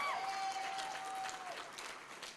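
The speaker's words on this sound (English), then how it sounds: "applause for that" Applause from an audience at a YWCA Women of Excellence awards event, a steady wash of many hands clapping at moderate distance, gradually fading, with a thin electronic tone near the start.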